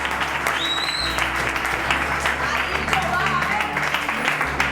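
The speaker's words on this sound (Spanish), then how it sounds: "Yo solo pediré un fuerte aplauso y un poquito de atención," An audience applauds with dense, sustained clapping at a martial arts demonstration, heard from within the room over a low hum.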